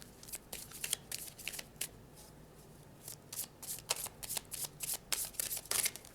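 Oracle cards being shuffled by hand, close and fairly quiet, with repeated bursts of riffling and flicking at an uneven rhythm.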